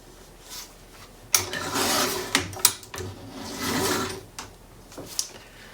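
Paper being trimmed for a notebook, a close rasping cut that drags in a few short strokes with brief pauses, loud and alone.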